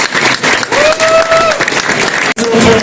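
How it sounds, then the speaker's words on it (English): A crowd claps at a business policy-maker reception, dense and loud for the whole stretch, with a brief sustained tone rising through the middle and a sharp break near the end. "So please give yourself a round of applause as well."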